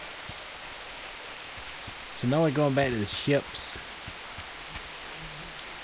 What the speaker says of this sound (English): Kind of like being in the rain.